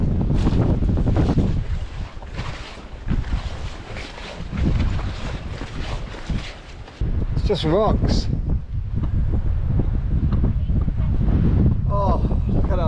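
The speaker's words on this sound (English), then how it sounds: "wind's shooting down your throat" Strong mountain wind in Tasmania buffets the microphone in heavy, continuous low rumbling gusts, with a person talking intermittently beneath the roar.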